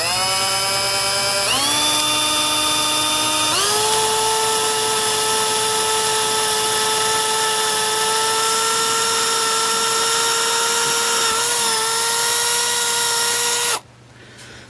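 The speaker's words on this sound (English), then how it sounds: "7/64 inch drill bit is the size I use for just about everything in this project" A power drill with a 7/64 inch bit bores into a thick plastic Commodore 64 case, a loud, sustained whine that shifts pitch a few times as it bites, then cuts off abruptly.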